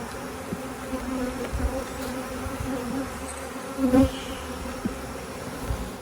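Bees buzz steadily around an open beehive being closed up for winter, a dense close hum with a few louder passes near the middle and no talking.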